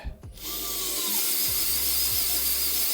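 A Bosch GO3 electric screwdriver with a 10 mm wood bit whirs steadily into wood, the motor pitch dipping briefly as the bit bites, with grinding, chattering texture throughout.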